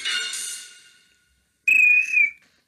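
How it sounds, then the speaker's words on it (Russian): Referee's whistle at the end of a football match: a sharp whistle blast fading out, a pause, then a second shrill blast, close and loud. "Ну вот и прозвучал свисток об окончании матча"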